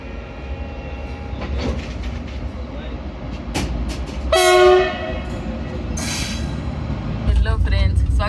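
Steady rumble and rattle of a moving train carriage, with a brief horn-like tone midway and background voices murmuring.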